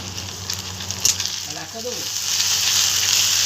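Ginger-garlic paste drops into hot oil for a bhetki fish curry, setting off a frying hiss that swells and stays loud toward the end, with a brief voice partway through.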